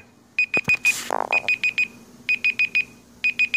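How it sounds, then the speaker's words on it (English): A Google Pixel phone's timer alarm rings in loud, rapid groups of four bright beeps with short pauses between, briefly interrupted by a voice and some handling noise. "Stop the timer."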